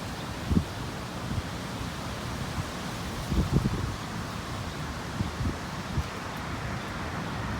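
Wind blows steadily outdoors, a broad rushing hiss with soft gusty buffets against the microphone and occasional low thumps, continuous and fairly loud throughout.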